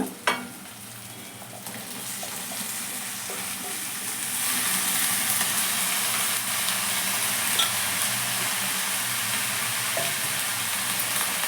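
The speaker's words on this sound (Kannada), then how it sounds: "ಇವಾಗ ಬದನೆಕಾಯಿಯನ್ನು ಸೇರಿಸೋಣ." Eggplant added to a pan of frying onion and tomato, a soft clatter at first, then the sizzle swells into a loud, steady frying hiss that continues with occasional stirring scrapes.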